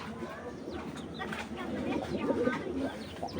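Pet pigeons in a fancy-breed collection coo softly in low, rolling calls amid faint chirps and rustling, with someone talking nearby.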